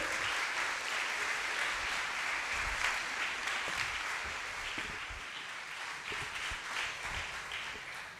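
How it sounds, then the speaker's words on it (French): Audience at a conference debate on isolation of elderly people applauds warmly as the president of Petits Frères des Pauvres comes up, a dense, even wash of clapping from a large crowd sustained for several seconds. "Je vous demande d'applaudir chaleureusement la présidente des Petits Frères des Pauvres qui va ouvrir cette présentation, Anne Guénaud."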